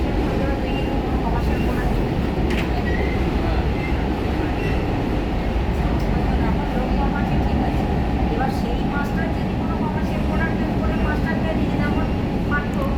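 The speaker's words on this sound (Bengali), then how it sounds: "এখন এই ফ্ল্যাটের ঠিক মিডিলের হাইট দিয়ে এই ট্রেনটা যাচ্ছে" A metro train on the Behala–Joka line rumbles past on an elevated track, a dense, continuous low roll of wheels and motors that stays loud throughout, with occasional faint squeals over it.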